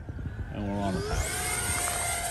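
An Eachine F18 RC jet with a 50mm electric ducted fan passes overhead, its loud whining turbine rising in pitch and holding steady, with a brief voice at the start.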